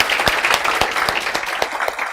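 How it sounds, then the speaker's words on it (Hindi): A small class audience at a CA Foundation law lecture claps in quick, uneven bursts, a short spell of applause with sharp individual hand claps. "एक बार तो मैं चाहती हूँ कि आप लोग अपने आप के लिए जोरदार तालियां बजा दो."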